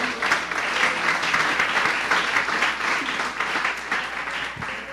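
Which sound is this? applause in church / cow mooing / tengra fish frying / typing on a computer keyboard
applause in church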